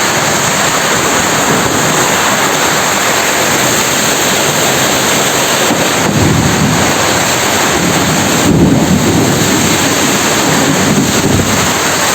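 Heavy rain pours steadily during a thunderstorm in a village, loud and broadband, with low rumbling surges of thunder swelling around the middle and later stretches; no one speaks.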